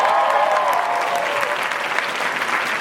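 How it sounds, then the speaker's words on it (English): At a DragCon 2016 comedy stage show, an audience breaks into loud, sustained applause. The dense clapping fills the whole stretch with no talking over it. "Clap for the editor of our show."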